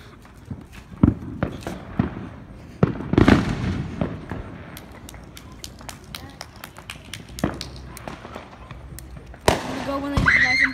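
Fourth of July fireworks crackle and pop in irregular sharp bursts outdoors, some loud and close and others fainter, with people chattering and calling out between them.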